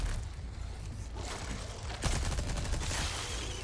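Machine gun fire in Resident Evil 4 Remake, fairly quiet and muffled at first, then a louder run of rapid shots in the second half over a steady background rumble.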